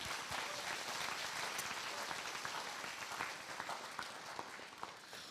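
A school band concert audience applauding the school administrators, a dense, steady wash of many hands clapping throughout, loud and sustained with no talking.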